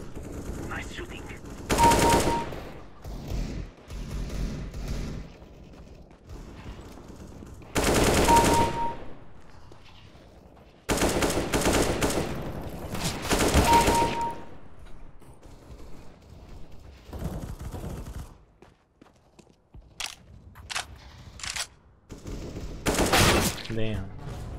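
Gunfire in Counter-Strike: GO, including pistol shots: several loud bursts of rapid automatic fire, spaced seconds apart, with scattered single shots and quieter game noise in between.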